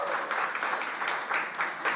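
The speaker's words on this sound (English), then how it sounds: "Go ahead and give yourselves a big round of applause." A studio audience applauds steadily after a correct time-travel trivia answer, a dense, even wash of many hands clapping at moderate volume for the whole stretch.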